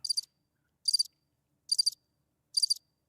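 Crickets chirp in four evenly spaced trilling bursts, crisp and high, each separated by near silence.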